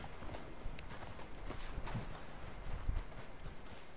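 Horse hooves clip-clopping at a walk in Red Dead Redemption 2, soft and fairly distant, in an irregular patter over a steady ambient background wash.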